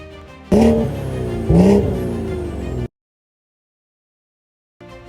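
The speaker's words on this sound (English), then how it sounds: "The B58 already has one of the best exhaust notes of any BMW inline 6" A BMW 340i with a B58 inline six revs twice through its exhaust. Each blip swells loudly with a climbing, raspy tone over a steady idle, then the sound cuts to silence before the idle briefly returns.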